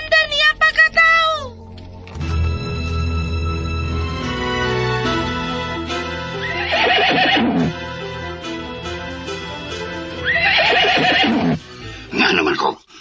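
A horse whinnies in repeated high, wavering neighs, with shorter calls near the start and end, heard over a steady musical bed, with speech in between.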